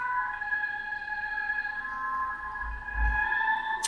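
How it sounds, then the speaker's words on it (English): A lightsaber sound font's soundtrack from the Pod Racing font plays as sustained layered electronic tones with a low rumbling swell near the end, with no talk. "Every one of your sound fonts has a sound track, so to play that, do a long press on the power when the saber's off."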